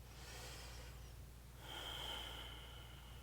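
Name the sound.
slow breath during yoga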